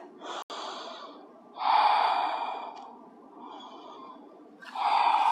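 Slow, deep breaths taken during a yoga stretch in a low-body mobility session: one short breath, then a long loud exhale, a softer inhale, and another strong breath, all close and without talk.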